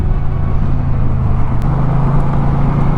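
A motorcycle rides along a bypass road, its engine droning steadily and loudly up close with a constant low hum and road noise throughout, no voices present.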